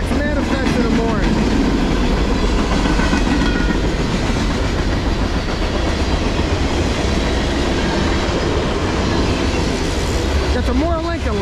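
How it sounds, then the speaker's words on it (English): A CSX manifest freight train with locomotive 3071 leading rolls past in Middlesex, New Jersey. It is loud and close, with steady rumble and rail clatter the whole way through, a few wheel squeals, and faint voices underneath. "First CSX manifest in the morning."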